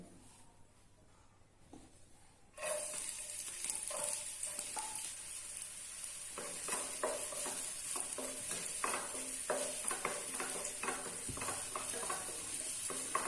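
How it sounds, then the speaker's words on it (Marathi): Onion sautéing in a kadhai for a Maharashtrian stuffed brinjal bharit, a steady close sizzle that starts abruptly after quiet, with repeated scraping and stirring clicks throughout; no talk. "कांदा चांगला परतून घ्यायचा आहे"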